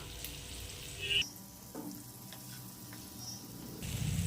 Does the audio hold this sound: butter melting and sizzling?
yes